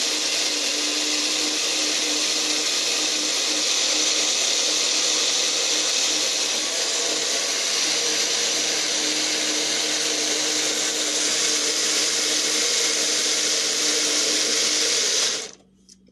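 A Magic Bullet blender making a smoothie runs loud and steady with a high whirring roar for about fifteen seconds, then cuts off abruptly.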